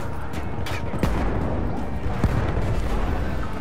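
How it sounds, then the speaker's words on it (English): Battlefield 1 battle explosions rumble continuously, with a dense, steady roar of blasts and a few sharp, close booms standing out across almost four seconds, and no talking. "There's just explosions."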